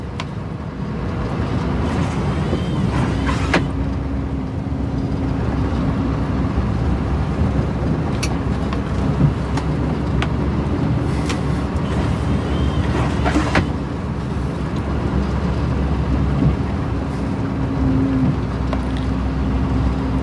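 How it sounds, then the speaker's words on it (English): A Scania plow truck's engine rumbles low and steady on a quiet night road, a continuous deep drone with occasional faint clicks and wind-like hiss, no talking. "You can hear the engine rumble a little bit"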